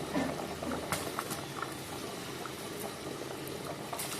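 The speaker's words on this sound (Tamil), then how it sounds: "நல்லா தளன்னு கொதிக்குது." Steady bubbling and hissing of water boiling in a pot for cooking rice, a continuous close simmer with occasional louder pops, no voices.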